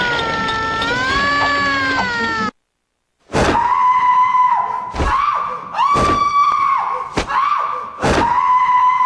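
A mermaid boss in the video game Rule of Rose screams in a long, wavering, distorted cry, followed after a brief silence by a series of loud thudding impacts with sharp ringing shrieks.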